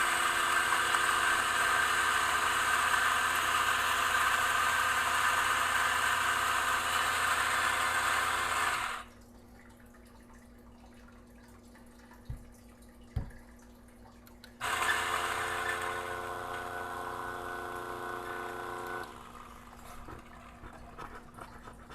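A coffee grinder fitted with SSP burrs grinds beans with a loud, steady whirring motor for several seconds, falls quiet apart from a couple of small knocks, then runs again in a shorter burst, with no talking.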